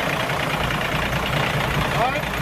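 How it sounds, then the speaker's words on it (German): A tractor engine idles with a steady rumbling knock while hauling a 1976 Jonker Paans motorboat at a dry dock, a continuous mid-distance drone with people talking over it. "Wird jetzt runtergezogen, hier mit dem Trecker."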